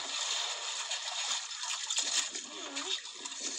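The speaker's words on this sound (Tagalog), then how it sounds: "Galaw ng bangka, ng tubig. Yan yan. Yung mga katig yan, maingay." Water sloshes and splashes against the bamboo outriggers of a small boat on open water, a steady, broad wash of spray and gurgling close by with no pauses.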